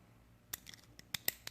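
Pliers squeezing and crimping a CV boot band clamp on a 2016 Can-Am Renegade, heard as a few sharp metallic clicks and snaps in quick succession, close and fairly quiet against a still background.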